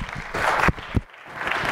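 An audience at a community forum claps before a new superintendent begins speaking, a burst of applause broken by a couple of sharp louder claps and a brief lull.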